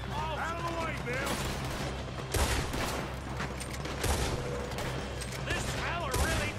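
A Red Dead Redemption 2 shootout during a robbery, with dense rapid gunfire cracking and echoing almost continuously, loud and close, while someone shouts and talks over the shots.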